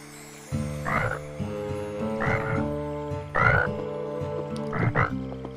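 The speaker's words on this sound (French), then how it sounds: "Peut-être qu'il coasse parce qu'il est jeune et ça lui passera avec l'âge." A cartoon frog croaks at night, four loud, evenly spaced, drawn-out croaks with a tonal, musical quality over a quiet nighttime background.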